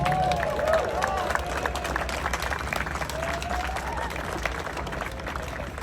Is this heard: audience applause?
yes